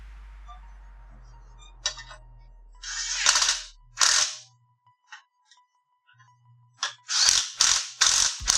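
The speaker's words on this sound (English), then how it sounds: "We're loosening the oil panel." A hand ratchet loosens the oil pan bolts on an engine in a garage, making several separate bursts of quick, close clicking with quiet gaps and faint knocks between them.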